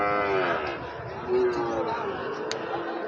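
Sahiwal cattle at a cattle market low in drawn-out moos, with the murmur of people talking in the background.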